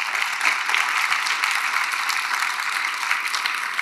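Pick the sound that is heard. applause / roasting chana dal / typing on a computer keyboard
applause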